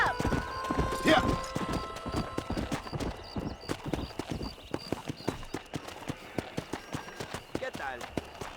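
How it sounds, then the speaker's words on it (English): Galloping horse hooves in the Western video game Red Dead Redemption, a steady rapid clip-clop close by with a brief whinny near the start, and someone shouting over the first seconds. "I'll show you how we ride around these parts. Yeah! Giddy up!"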